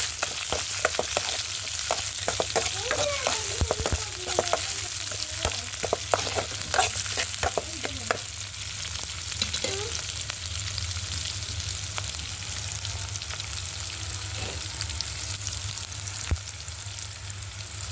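Onions sizzle steadily in hot oil in a pan over a wood-fired stove, with occasional scraping and clinks from stirring, close up and continuous.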